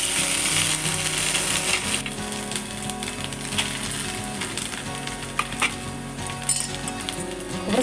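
Grated coconut and poppy seeds roast in hot ghee in a pan for modak filling, a steady crackling sizzle with the scraping of a stirring spoon and occasional metallic clinks, close and continuous.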